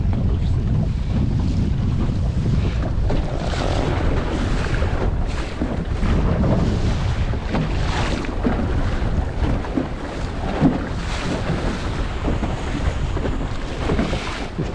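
A Laguna-Kombi+ sailing dinghy drives through choppy water in a strengthening wind near the Leningrad nuclear plant, with a loud, constant rush of wind buffeting the microphone over sloshing, splashing water along the hull.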